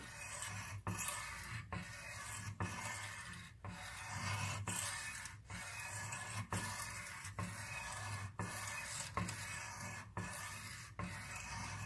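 A knife blade is drawn across the stone of a sharpening system in repeated rhythmic rasping strokes, about a dozen passes with short pauses between, close and fairly quiet.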